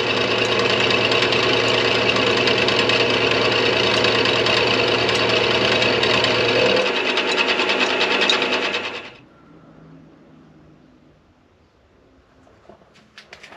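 Milling machine cutting steel T-nuts in a workshop, a loud steady whirring drone with a rapid mechanical rattle for about nine seconds, then winding down to quiet with faint clicks.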